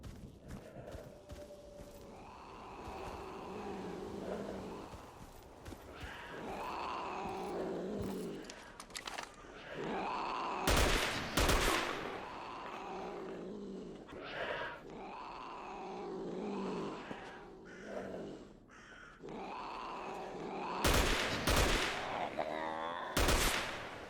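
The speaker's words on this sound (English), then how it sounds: "There's a lot of cats here." Mutant cats in the game STALKER Anomaly yowl and growl repeatedly at mid distance, with loud bursts of gunfire cutting in twice between the cries.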